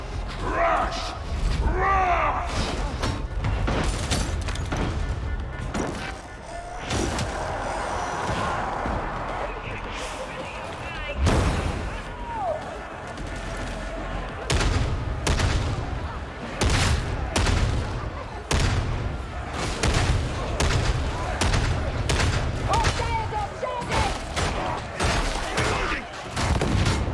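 Dense gunfire and explosions crackle and boom from the Warhammer 40k Darktide video game, with rapid shots, clanking mechanisms and rumbling blasts under intermittent voices.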